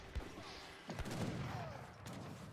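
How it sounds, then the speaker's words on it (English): Heavy cannons firing in an Age of Empires III match, quiet booming shots and crackling impacts spread across a busy low battle din, a few distinct thumps among the rumble. "Heavy cannons destroying the front war huts here."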